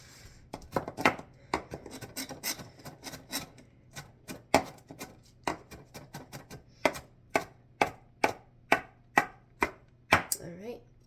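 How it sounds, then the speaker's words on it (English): Vegetables such as okra being chopped as iguana food, a run of sharp knife strikes on a board, first irregular and scraping, then evenly spaced firm chops toward the end, close and distinct. "So I'm going to give these another chop"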